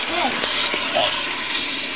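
Water runs and gushes in a toilet that makes odd noises, a loud close continuous splashing flow with a few brief whistling tones and short voice-like bursts near the start.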